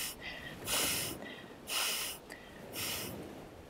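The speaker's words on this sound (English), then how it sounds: "Part three will be breathing out for four counts vigorously," Three forceful exhalations push hard through the nose and mouth, evenly spaced and close up, each a breathy rush of about half a second, as part of a four-count meditation breathing exercise.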